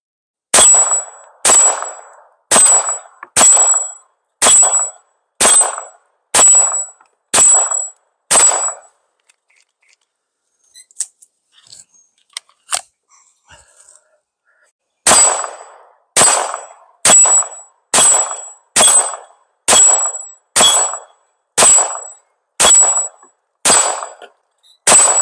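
A Grand Power K22 pistol fires CCI Mini Mag .22LR rounds at 6-inch steel targets, each sharp crack followed by a ringing metallic clang. Evenly spaced shots come in two strings separated by a quiet magazine change with faint handling clicks.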